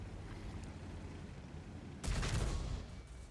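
A T95 tank destroyer's cannon fires a high-explosive round in a tank battle game, a single loud deep boom with a rumbling tail rising abruptly over steady background battle ambience.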